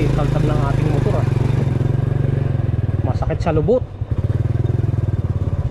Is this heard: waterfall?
no